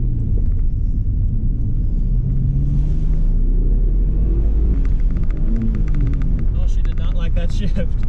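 Twin-turbo engine of a Mitsubishi 3000GT VR4 accelerating hard, a loud, deep rumbling drone heard from inside the car with rising revs and road roar, and talk over it.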